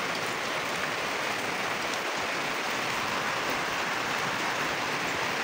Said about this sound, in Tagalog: Grabe guys, ulan.